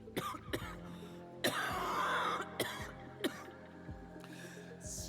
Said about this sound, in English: She breaks into another cough and collapses to one knee.